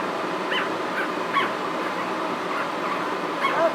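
Two-week-old puppies whimper and yip in soft, high, repeated little cries, faint and close in a quiet room, with no talking.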